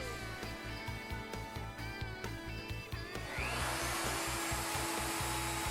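A plunge router cutting a wooden tenon in a Leigh FMT mortise and tenon jig, a faint motor hum with rhythmic ticks that gives way to a steadier, brighter whirring cut partway through.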